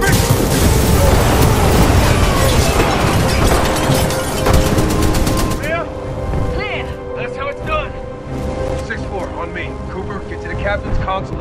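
A breach charge explosion in Titanfall 2: loud, crackling blast noise fills the first half, then fades into lower rumble with scattered game effects and talking voices.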